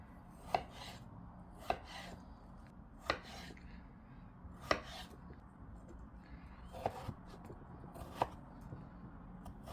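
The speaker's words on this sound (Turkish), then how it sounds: "Patatesleri küp küp doğruyorum." A knife chopping potatoes into cubes on a cutting board in a home kitchen. The crisp, separate chops come every second or so, close and fairly quiet, against a low background hum.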